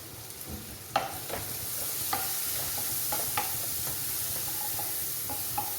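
A stir-fry of sprouted green gram with salt and pepper is stirred in a pan, giving a soft, steady sizzle with light, intermittent scrapes and taps of the spoon.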